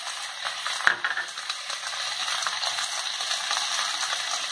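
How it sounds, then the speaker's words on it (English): Cabbage, potato, chow chow, brinjal, curry leaves, tomato, carrot and onion frying together in a pan for mixed vegetable chutney: a steady, close, broadband sizzle with one sharp clack near the start, no voices. "In this, we have to add all the vegetables into the pan."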